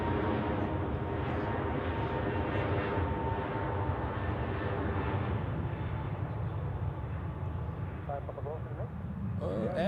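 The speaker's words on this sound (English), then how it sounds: "that sounds like a spool up of an A320neo, and that means Scandinavian Airlines is taking off to Copenhagen" Airbus A320neo engines spooling up for takeoff at Zurich Airport, a steady, loud, broad engine roar that holds throughout, with a voice talking over it.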